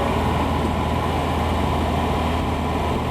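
A Volvo engine idles steadily through an upgraded IPD exhaust, a low, resonant exhaust rumble holding an even pitch throughout, close and moderately loud.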